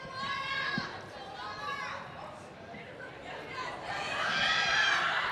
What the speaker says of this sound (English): Oh, we got a crowd going on